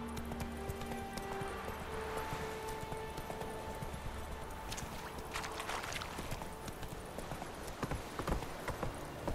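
Horse hooves clip-clop in a steady galloping rhythm in The Witcher 3, quiet and mid-distance, with a faint whinny-like tone near the start and ambient game sound beneath.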